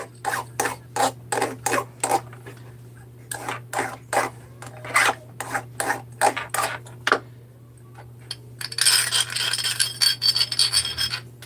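Metal parts being deburred with a hand file: close, rhythmic scraping strokes in short bursts over a steady hum, ending in a brighter jangling clatter of metal.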